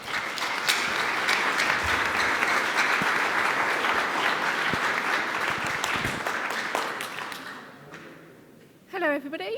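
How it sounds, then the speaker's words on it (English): Audience applause welcoming a speaker to the stage at a data science talk, sustained dense clapping for about eight seconds that fades out before a voice begins speaking at the end. "Please give her a warm round of applause."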